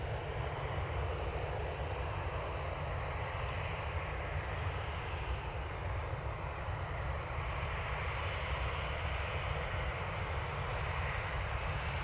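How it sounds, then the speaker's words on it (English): A Ryanair passenger jet arrives at Manchester Airport. Its engines give a steady, broad roar that holds at an even level the whole time, with no talking over it. "Got another Ryanair in"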